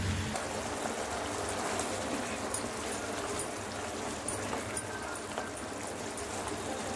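Prawns fry on low heat in a pan, giving a steady, continuous sizzle with fine crackling throughout, close and even in loudness.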